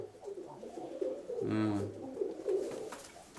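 A domestic pigeon coos once, a clear throaty call near the middle, standing out over quieter cooing and soft background murmurs from the loft.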